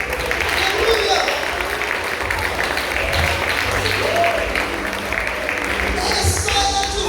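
A church congregation applauds the Lord, a continuous rumble of clapping and crowd noise with voices mixed in, fairly loud and steady from start to finish.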